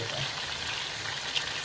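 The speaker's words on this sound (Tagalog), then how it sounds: "Iprito natin yung chicken na ganyan." Chicken pieces shallow-frying lightly in a pan give a steady, close sizzle with soft hiss throughout and one small pop near the end.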